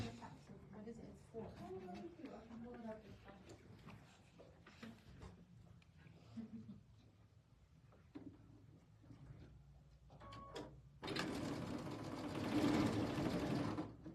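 A sewing machine stitching quilt pieces together for a summer quilt block: a low, rapid mechanical whir starts near the end and runs loud and steady after earlier talk and soft handling noises.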